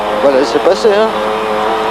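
Genial de Villiers' Dakar rally car powers past during the 2007 Dakar Rally's first stage, its rising and falling engine whine sweeping by close under an overlapping voice.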